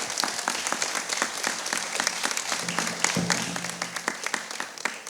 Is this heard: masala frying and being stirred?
no